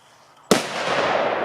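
A single sharp, loud bang from a Piratka or Tytan 1 firecracker outdoors, followed by a long rumbling echo that fades slowly.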